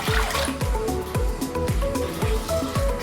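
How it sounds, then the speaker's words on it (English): Water pours and drips into a batter of gram flour and yogurt, several litres going in with repeated close sloshing, gurgling plops in an uneven rhythm and no voices. "I'm gonna add almost 3 liters of water into 1 cup and 1 cup of gram flour."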